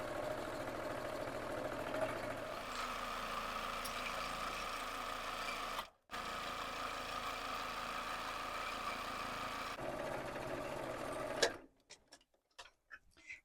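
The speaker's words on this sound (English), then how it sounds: "I am going to sew all the way down the long side of this fabric using a 1/4-inch seam allowance" A domestic sewing machine runs a long, steady stitch down a quilting fabric strip at a quarter-inch seam, a continuous close mechanical whir with one brief pause midway, then it stops and a few light clicks follow.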